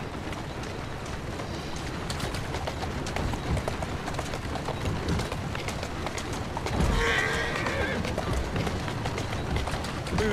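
Horse in the Assassin's Creed Syndicate video game, hooves clip-clopping steadily at a run with a brief neigh partway through, under game dialogue.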